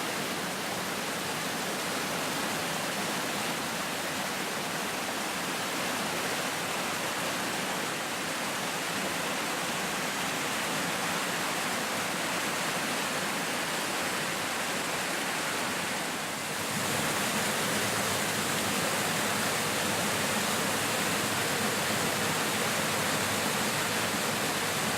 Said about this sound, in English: This was the second waterfall that we saw.